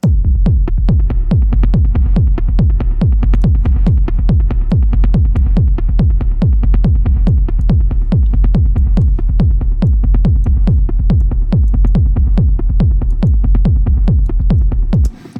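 A loud, pounding techno kick drives a steady four-on-the-floor pulse with a deep, rumbling bass underneath, continuous until a sudden stop.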